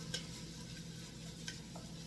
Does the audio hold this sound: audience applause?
no